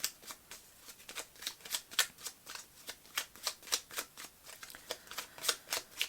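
Tarot cards being shuffled, with quick regular riffling bursts repeating steadily, crisp and close, with no talking.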